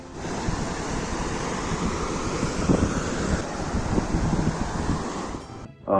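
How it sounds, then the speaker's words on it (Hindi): Water splashing and lapping against stones in a cold mountain lake in the Valley of Flowers, Chamoli, Uttarakhand, a steady close wash of rushing water mixed with wind noise, with no voices. "ठंडी झीलों में पानी के पत्थरों के टकराने से पैदा होने वाली खिलखिलाहट की आवाज़ एक अलग ही कशिश पैदा करती है"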